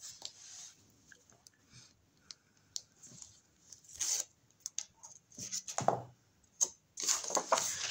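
Double-sided tape pulled and pressed onto paper for a handmade scrapbook album, giving quiet intermittent rustles, peels and taps, with a louder tearing rasp near the end; no speech.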